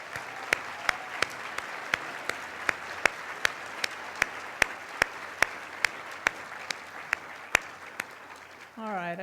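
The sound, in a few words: audience applause at a white coat ceremony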